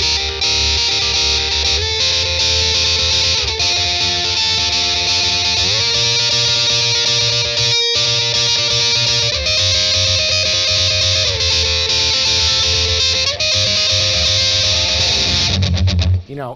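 A heavily distorted electric guitar plays a riff loud and continuous, with chugging chords shifting pitch in steps and a brief gap near the middle.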